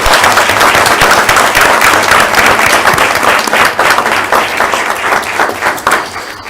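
Sustained audience applause at a school board meeting for district art teachers, a steady dense wash of many hands clapping, loud and close, continuing without pause throughout.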